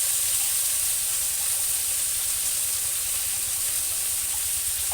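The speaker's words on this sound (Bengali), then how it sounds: "গাঠি কচুটা সুন্দর করে ভেজে নেব নুন হলুদ দিয়ে।" Chunks of taro root, seasoned with salt and turmeric, sizzle steadily in hot oil in a pan, a loud, even, continuous frying hiss with no talking.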